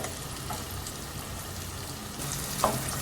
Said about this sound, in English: we let this cook for about a minute or two. And we raise it to a slow simmer.